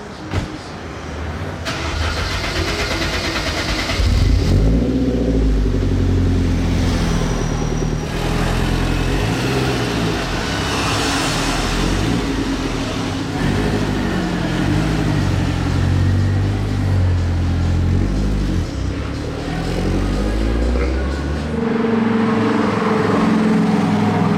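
A Mercedes SLR McLaren 722S engine cranks and roars to life, then rumbles and revs loudly at close range, deep and throaty throughout.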